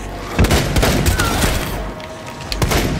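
Heavy gunfire erupts in the Outbreak video game, loud overlapping shots and booming bursts in quick irregular succession, with faint voices mixed underneath.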